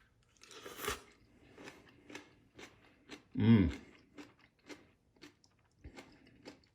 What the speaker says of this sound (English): I'm going to try some of this kimchi on its own.